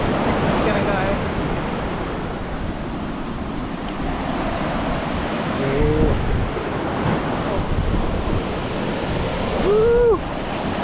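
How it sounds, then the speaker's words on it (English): Surf crashing onto a beach with the tide coming in, steady broadband roar of breaking waves under wind noise, with louder surges near the end and brief voices and a whoop in the background during a fishing session. "Tide's coming in. We got crashing waves"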